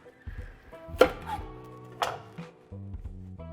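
A knife cuts a large cauliflower head into pieces on a board, with two sharp, close chopping knocks about a second apart and soft clatter between them.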